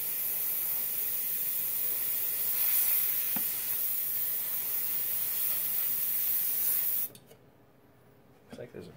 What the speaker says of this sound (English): Looks like there's a big leak there.